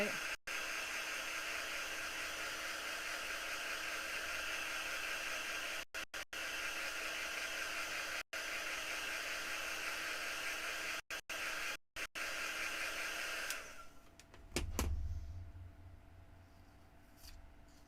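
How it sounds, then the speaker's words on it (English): A hair dryer blows with a steady, loud whoosh while drying freshly painted tape work, briefly cut by silent gaps, then switches off near the end, leaving a low thud and quiet. "You can use a hair dryer to dry it"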